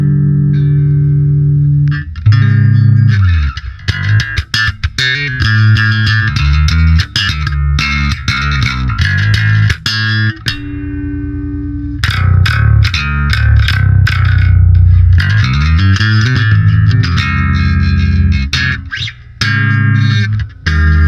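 A bass guitar runs through the Endless Bass amp plugin, loud and distorted, playing punchy riffs with short gaps and choppy rhythmic stops, alone with no talking.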